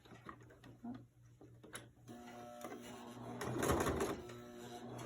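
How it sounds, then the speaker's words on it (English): A sewing machine running a reverse stitch on a fabric face mask, quiet mechanical whirring and ticking close by that builds toward the end, with faint talk in the background. "I'm gonna go do a reverse stitch."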